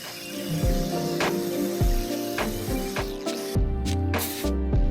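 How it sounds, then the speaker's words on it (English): Short bursts of pump brake cleaner spray hiss repeat over a ratcheting, clunking mechanical background, close and fairly loud, while cleaning oil off a Ford Super Duty front differential during a fluid change. "Pump up the brake clean and spray it down"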